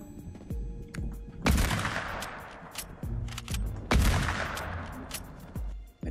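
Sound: gunfire in the video game Fortnite

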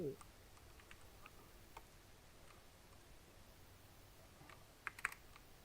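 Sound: loud computer keyboard typing

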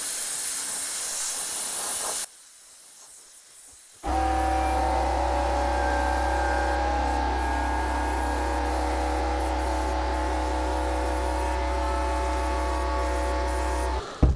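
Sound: compressor airline blowing paint on an oak bowl

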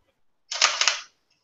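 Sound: Sony mirrorless camera shutter clicking

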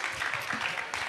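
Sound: applause

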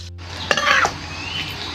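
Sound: simmering and stirring sauce in pan

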